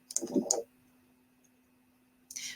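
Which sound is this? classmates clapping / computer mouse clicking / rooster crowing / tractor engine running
computer mouse clicking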